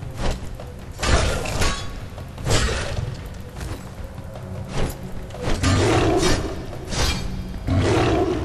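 A shadow runner beast in the game Arcania Gothic 4 lets out loud, repeated roars with thuds and crashing impacts over a dense, noisy background, no speech.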